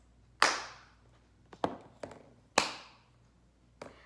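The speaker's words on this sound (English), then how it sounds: "I will clap each time I say a word." Sharp single hand claps in a quiet room, spaced irregularly, with two loud ringing ones and several softer ones, each decaying quickly, no talk.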